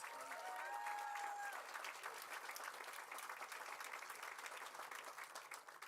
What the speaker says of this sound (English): Let's give Sundance supported artists who live here in this community an applause